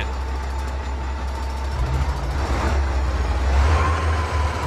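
The Kamaz 5410 truck in Euro Truck Simulator 2 idles with a deep, steady diesel rumble that grows louder as the engine revs, heard alone and close.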